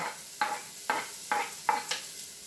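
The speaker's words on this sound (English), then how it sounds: "right now we are going to saute some onions" Half an onion, chopped, starting to sauté in a pan, with four or five evenly spaced scraping strokes of a utensil against the pan over a low background sizzle, close and fairly quiet.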